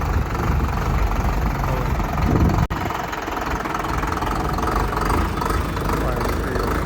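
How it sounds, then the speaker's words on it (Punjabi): A loud tractor engine idles steadily and close by, with a brief cut partway through and voices faintly talking over the rumble. "ਆਪਣਾ ਸੋਲਾ ਪਿੰਡ ਚੱਲਿਆ ਟਰੈਕਟਰ"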